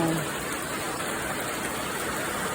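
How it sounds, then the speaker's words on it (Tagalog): Rain falls steadily at night, a continuous even hiss of drops on surfaces with no pauses or voices. "Ayan, ulan siya. Ulan yun siya."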